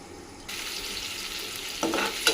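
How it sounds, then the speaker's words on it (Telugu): Onions fry in oil with salt, giving a close, steady sizzle that starts suddenly and then runs on, with a couple of brief stirring scrapes near the end. "ఆనియన్ మొత్తం ఫ్రై అయ్యేంత వరకు మనం"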